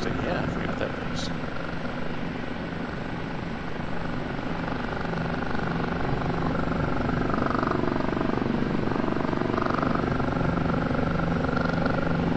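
Rotor noise from an OH-58D Kiowa helicopter in the DCS flight simulator, a steady dense chopping drone that fills the whole stretch, with people talking over it.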